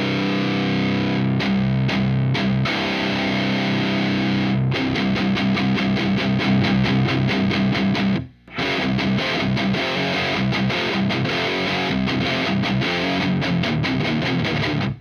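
Electric guitar played through a Suhr SL67 50-watt amplifier on the bridge pickup gives a loud, heavily distorted rock tone, with chugging riffs and sustained chords running nearly continuously, broken by one brief drop near the middle.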